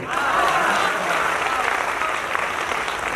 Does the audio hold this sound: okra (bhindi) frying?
no